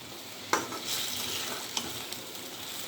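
Eggs frying in a pan being flipped over, a soft steady sizzle underneath with a sharp spatula knock against the pan and a couple of lighter scraping clicks.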